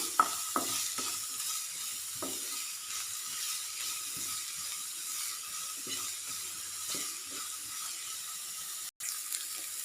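Onions with a little salt sautéing in a pan for okra thoran, a faint steady sizzle with occasional soft stirring scrapes and taps, quiet and without voices.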